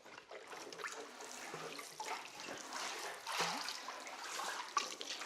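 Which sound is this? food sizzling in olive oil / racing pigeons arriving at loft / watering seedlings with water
watering seedlings with water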